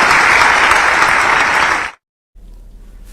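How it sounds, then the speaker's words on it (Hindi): An audience at a political rally in Bhopal claps loudly in a thick, even burst that stops abruptly, followed by a quiet murmur. "जरा जोरदार ताली बजा करके"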